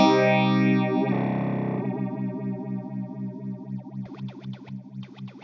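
Electric guitar run through an Electro Harmonix Bad Stone phaser pedal: a sustained chord with sweeping, swirling phase modulation gives way to steady repeated picked chords, then bright rhythmic strums with a pulsing, jet-like sweep, loud and close.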